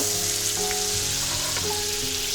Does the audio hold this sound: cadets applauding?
no